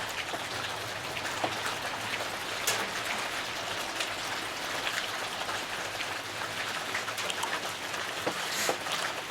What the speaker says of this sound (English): if I shut up for a second, it's raining